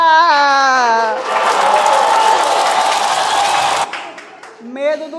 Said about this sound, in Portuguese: Palmas para Clara!